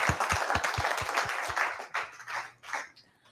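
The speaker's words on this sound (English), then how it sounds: "now let's give a big round of applause to Paul." A small audience at an evening talk gives a round of applause, with a few distinct sharp claps up close at first that thin out into scattered, fading clapping.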